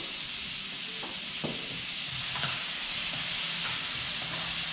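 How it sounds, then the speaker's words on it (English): Garlic sizzles in a hot pan over high to medium heat as part of a Hakurei turnip and greens dish, a steady close frying hiss that runs throughout with a few faint clicks, no voices. "cook it, or at least sear it long enough to get a nice little brown sear"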